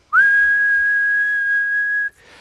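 A person whistles one long, steady, pure note while putting a golf ball on the green. The tone is close and clear and holds for about two seconds before stopping abruptly, leaving a faint rustle.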